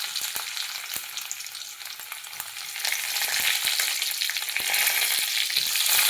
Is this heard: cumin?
yes